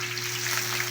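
A pork leg deep-frying in hot oil gives off a steady, soft crackling sizzle with a low electrical hum underneath, continuous and fairly quiet.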